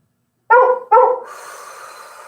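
A dog gives two loud, close barks in quick succession, followed by a lingering breathy tail.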